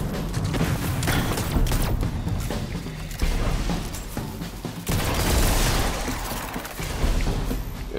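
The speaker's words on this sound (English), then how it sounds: "Oh my goodness, look at the gunfire!" Dense, continuous gunfire from many weapons in the shooter game Destiny during an Earth mission, loud and sustained with heavy bursts and booming impacts throughout and no voices.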